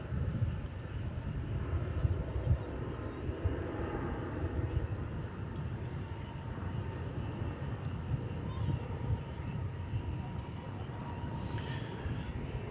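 An Embraer 175 regional jet leaving DFW Airport sends a steady, distant engine roar across the field, a constant broad rumble that holds throughout, with faint background voices.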